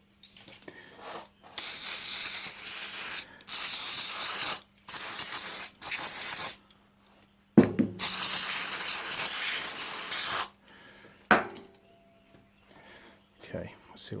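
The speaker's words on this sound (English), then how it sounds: "Brake cleaner required." Brake cleaner sprayed onto rear wheel bearing races from a 2006 Mazda Axela, a series of loud, close hissing aerosol bursts of varying length separated by short pauses, with a person talking in the gaps.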